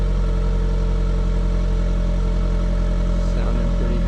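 A Saab 9-5 engine idles steadily after a cold start, fitted with a new exhaust and muffler, a loud, close, even low drone with a constant burble and no revving.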